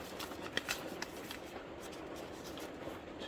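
Paper folded over by hand for a junk mail correspondence folder, a few crisp rustles and creases up front, then quieter soft handling of the sheet nearby.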